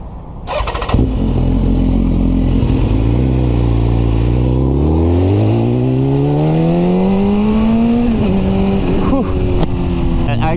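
An old BMW motorcycle roars loudly while being ridden, its engine note climbing and dropping as it accelerates through gear changes, with heavy rumble throughout the ride.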